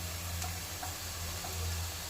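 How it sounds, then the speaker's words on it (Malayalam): A pan sautéing ingredients for chicken kabsa gives a soft, continuous sizzle with faint occasional pops, steady and close over a low kitchen hum. "ഇതിൻ്റെ കളർ മാറുന്ന വരെ നല്ലവണ്ണം സോട്ട് ചെയ്യുക"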